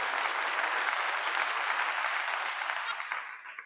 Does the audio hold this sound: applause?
yes